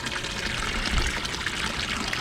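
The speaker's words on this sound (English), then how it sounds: "I do have water coming up from the bottom." Water flows and trickles steadily through a small homemade pond filter built from hardware-store materials and pond filter media, a close, continuous splashing burble with no voices.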